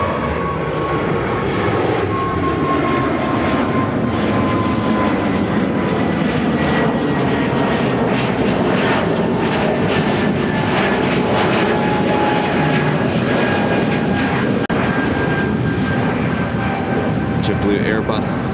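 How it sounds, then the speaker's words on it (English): A JetBlue Airbus A220 jet at Chicago O'Hare gives a steady, loud engine roar with a whining tone that holds for the full span, people talking over it. "Oh, there's JetBlue."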